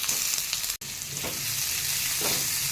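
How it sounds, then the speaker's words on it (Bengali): Steady, loud sizzling of onions frying in hot oil in a kadai for Maggi noodles, a continuous crackling hiss with a brief dropout and faint stirring scrapes. "পেঁয়াজগুলো ভেজে হালকা ভাজবো"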